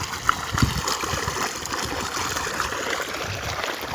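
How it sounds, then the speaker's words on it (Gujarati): Irrigation water runs steadily through a channel into a wheat field nearby, a continuous trickling and gurgling rush with no pauses. "આમ પાણી જાય છે"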